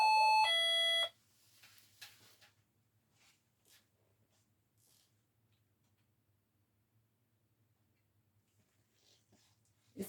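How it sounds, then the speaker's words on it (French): A doorbell chime rings once at the start, clear and fairly loud, then gives way to a near-silent room with only faint, scattered small sounds. "ça a sonné parce que j'ai du monde"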